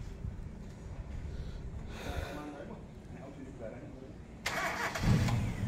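A 1994 Toyota Kijang engine cranks and catches near the end, rising into a louder running rumble after a stretch of quiet background noise.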